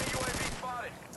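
Rapid automatic gunfire in the Modern Warfare 2 video game, a dense rattling burst that fills the moment and then trails into a second, slightly thinner volley.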